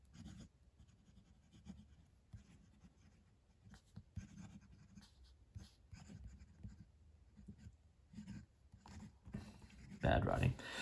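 A broad-nib Monteverde Ritma fountain pen loaded with black ink scratches softly across paper in short strokes and pauses, faint and close.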